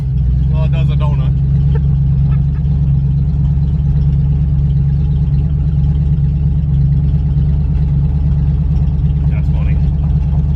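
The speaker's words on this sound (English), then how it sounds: "I barely touch the throttle and it like caps off. So I don't know if it's you know, actually going wide open or not, but well, it does a donut." A 500 cubic inch big block Cadillac G body doing a donut, its engine rumbling loud and steady throughout with a deep, continuous drone, while a voice talks briefly near the start.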